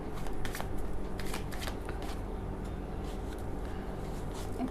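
A deck of tarot cards being shuffled up close, with quick flurries of riffling and soft slapping bursts repeated at an uneven rhythm, fairly quiet and free of talk.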